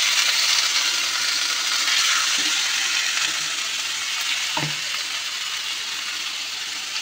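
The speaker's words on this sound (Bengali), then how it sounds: "তেল ছেড়ে গেছে, এবার আমি সিদ্ধ করা বাঁধাকপিটা একটু দিয়ে দেবো।" Boiled cabbage frying in hot oil gives a loud, steady sizzle that fills the scene, with a few soft stirring knocks and no voices.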